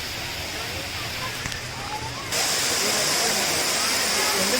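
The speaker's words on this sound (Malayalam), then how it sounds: "അടിപൊളി അടിപൊളി വെള്ളച്ചാട്ടം" Aanachadikuth waterfall in Idukki, a constant loud broadband rush of falling water heard up close, growing louder partway through, with voices over it.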